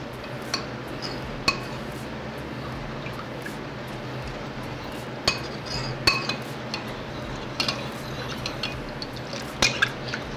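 A spoon stirring seafood soup ingredients in a bowl gives scattered light clinks and taps against the dish over a quiet background, with irregular sharper knocks every second or two.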